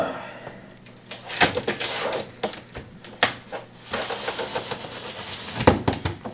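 A knife slices through heavy packing tape on the cardboard box of a Thermaltake Level 10 GT computer case, giving sharp scraping tears and rustling cardboard close to the microphone, in several uneven strokes.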